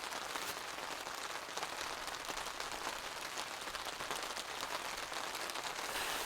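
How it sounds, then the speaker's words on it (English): Rain falling on a truck camping tent during a mountain storm, a soft, continuous drumming hiss that stays even throughout, fairly faint and with no voices. "Listen to the rain."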